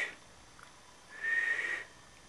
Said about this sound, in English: I can't even whistle.